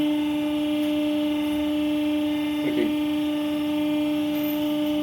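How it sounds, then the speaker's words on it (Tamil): A hose ferrule fitting crimping machine runs with a steady electric hum and strong tonal drone, loud and continuous, with a brief rattling burst midway. "ஹோஸோட ஃபெரல் ஃபிட்டிங் மிஷின் இது"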